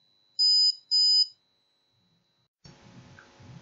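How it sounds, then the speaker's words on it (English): Two short, loud, high-pitched electronic beeps from a drop counter for blind users mark a falling drop, followed by silence and then faint handling noise. "This is the sound that you will hear when a drop goes down."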